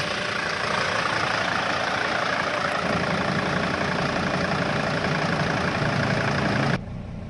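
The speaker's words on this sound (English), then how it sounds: "you want to let your engine run for a couple minutes" A Mercedes Sprinter 2.7L diesel engine idles steadily with a constant rumble and clatter, close by, before the level drops abruptly near the end.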